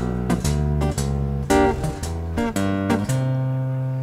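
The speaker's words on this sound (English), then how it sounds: "So an example would be the root, third, fifth of a G, then a half step down, which leads into the root of a C." Chapman Stick walking bass line outlining root, third and fifth of G, then a half-step leading tone down into C: a steady string of deep tapped notes, each distinct and evenly paced, alone without any talking.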